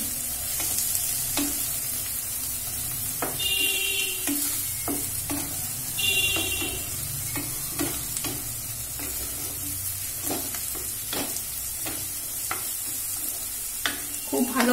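Garlic paste sautéed and stirred in a pan with ginger paste for egg poach curry, giving a steady close sizzle broken by repeated scraping strokes of a spoon, with a few faint clinks.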